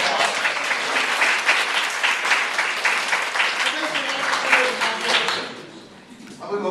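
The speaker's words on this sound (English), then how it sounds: "I think a round of applause." Audience applauds sponsors at a business model canvas presentation, steady dense clapping from a sizeable crowd that fades near the end before picking up again briefly.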